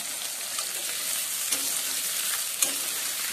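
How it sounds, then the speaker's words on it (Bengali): Potatoes fry in hot oil with a steady, dense sizzle, broken by a couple of soft clinks as they are turned, close and continuous with no voices. "তেলের মধ্যে আলুগুলো দিয়ে ভেজে নেব।"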